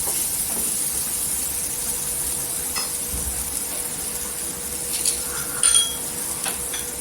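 Pav bhaji masala and garam masala frying in hot oil in a home kitchen, a steady close sizzle and hiss with a few light stirring clinks, no talking.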